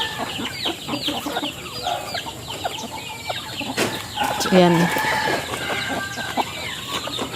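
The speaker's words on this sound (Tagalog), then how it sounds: "Tingin yung mga manok." Chickens cluck and call steadily in a busy farmyard near a rabbit enclosure, with a rooster-like crow partway through, thick outdoor background noise, and a person speaking briefly over the flock.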